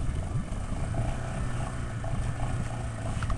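A mud motor boat engine revs loudly and steadily close by, a throaty outboard-style drone with a rough pulsing tone that holds throughout.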